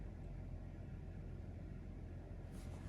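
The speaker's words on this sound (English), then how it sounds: "that vehicle outside is so freaking loud" A loud vehicle outside a room produces a steady, continuous low rumble of engine noise, unchanging throughout and heard alone without speech.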